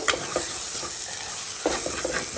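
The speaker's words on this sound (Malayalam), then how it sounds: "നമ്മൾ ഈ കളർ ആവുന്നത് വരെ ഇളക്കിക്കൊണ്ടിരിക്കണം കേട്ടോ" Masala frying in oil in a pan, stirred with a spoon, giving a steady sizzle with a few sharp scraping strokes, close and clear with no talk.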